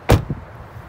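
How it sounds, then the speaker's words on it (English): The rear door of a 2008 Honda CR-V opens with one sharp mechanical clunk near the start, a softer knock just after, and then a quiet interior. "let's open up the rear door here"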